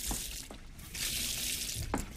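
Water runs from a household tap into a sink in a steady, faint hiss, broken by a few soft knocks and splashes, with no talk.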